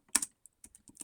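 Typing on a computer keyboard, a handful of quick key clicks in two short clusters, close and crisp with quiet gaps between.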